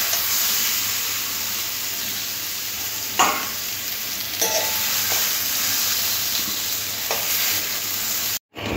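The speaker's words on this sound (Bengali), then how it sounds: "5 মিনিট এঁচোড়টা এরকম করে ভেজে নিয়েছি" Young jackfruit pieces fry in oil in a kadai, a dense continuous hiss of sizzling with a few spatula scrapes and knocks scattered across it.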